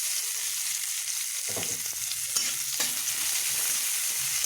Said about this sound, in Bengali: ওই একই তেলে আমি দিয়ে দেবো শুকনা লঙ্কা আর জিরা ফোড়ন এবার আমি দিয়ে দিব কুচনো পেঁয়াজ